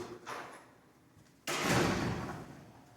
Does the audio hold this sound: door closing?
yes